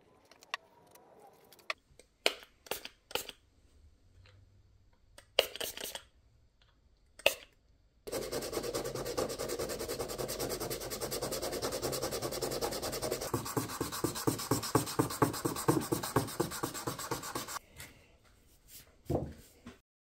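Fine sanding on a hand-carved wooden rat wakebait fishing lure, knocking back layers of stain between coats; a few short scratchy strokes, then a steady, close run of rhythmic rubbing that stops abruptly, followed by a couple of brief scrapes.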